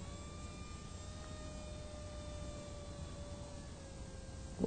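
An XK A1200 large stabilized RC glider's electric motor whines steadily at part throttle in flight, a constant faint tonal buzz heard from a distance.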